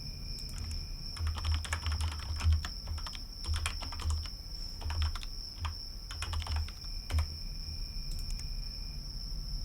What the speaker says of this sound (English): have to type it in.